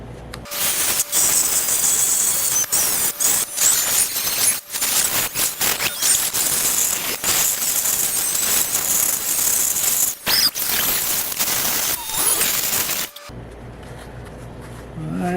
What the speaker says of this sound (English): Now I'm going to grind out this half of it.